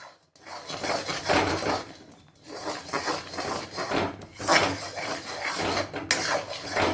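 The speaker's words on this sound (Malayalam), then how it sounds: "ചക്ക ഇതിൽ കൊട്ടുകയാണ് കേട്ടോ." Chopped jackfruit pieces tumble from a container into a cooking pan with a little ghee, giving repeated scraping, clattering bursts of metal and fruit against the pan, close and fairly loud, with no voice.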